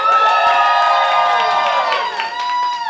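A children's audience at a game-show showdown cheers, whoops and shouts to vote, a loud sustained crowd roar with high voices dominating throughout.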